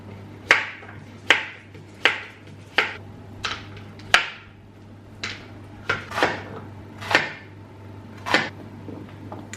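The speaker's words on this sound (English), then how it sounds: "Start chopping." Tomatoes being chopped on a board for a mixed-colour chutney, about a dozen sharp, close knife strikes at an uneven steady pace, with a low constant hum underneath and no talking.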